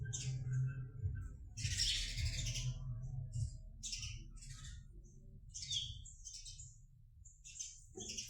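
Small birds chirp and squawk faintly at a nest while feeding their chicks, with scattered high chirps over a low background murmur that may hold distant voices.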